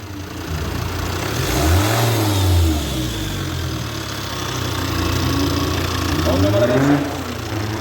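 A freshly rebuilt Volvo D5 diesel engine idles nearby and then revs up twice, rising and falling in pitch, with a voice heard over the engine noise.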